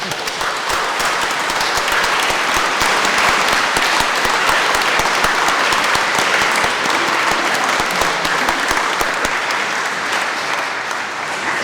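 A church congregation claps steadily for new parishioners at a harvest and confirmation service, dense sustained applause from a full room for about eleven seconds, no voices over it.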